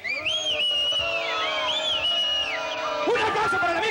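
A crowd cheers and whoops with raised, sliding voices for an immigration agent introduced on stage. The din is loud and continuous, with a burst of extra cheering near the end.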